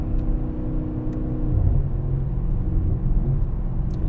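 A 2017 Mercedes C63S AMG accelerating hard, its engine a deep, loud, continuous rumble with a rising drone heard from inside the car, steady throughout with no talking.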